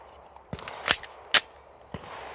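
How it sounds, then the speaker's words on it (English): Loading and making ready a Walther pistol at a shooting bench: a few sharp, close metallic clacks of the slide and magazine, separated by brief pauses over quiet background noise. "I will load and make ready."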